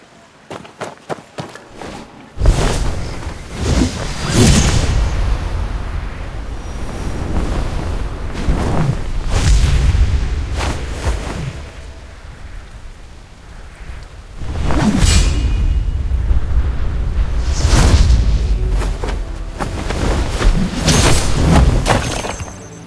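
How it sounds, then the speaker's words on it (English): Fireworks bursting in the game Where Winds Meet, heard as several loud, booming explosions with rushing, crackling tails, arriving in clusters at irregular intervals, with no talking. "fireworks are powerful, so don't aim them at men"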